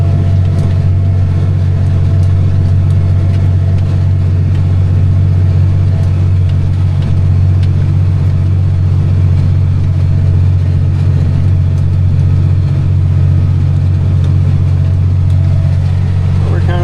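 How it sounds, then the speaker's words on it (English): Loud, steady low drone of a rough-riding Massey tractor engine running continuously at close range, with a constant rumbling hum throughout. "This tractor's a little rough riding."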